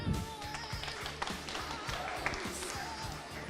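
Audience applause at an award ceremony choosing a Miss title, a dense continuous patter of many hands clapping over a steady crowd, with a faint voice briefly underneath.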